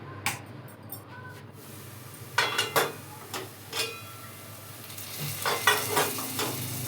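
Brinjal sautés in an oiled pan with a low steady sizzle, punctuated by several sharp scrapes and clinks of a spoon against the pan, close by.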